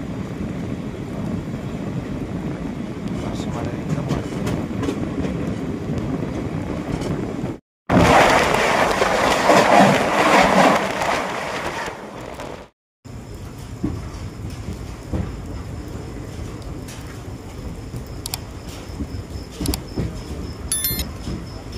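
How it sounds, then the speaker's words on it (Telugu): The 12746 Secunderabad SF Express pulls away from platform 1 at Garla station with a steady, loud rumble of rolling stock and wheels. The sound runs continuously, broken by two short silent gaps, with faint higher clatter toward the end. "గార్లా రైల్వే స్టేషన్లోని ప్లాట్ఫామ్ నెంబర్ 1 నుంచి అయితే మన ట్రైన్ డిపార్ట్ అయిపోయింది"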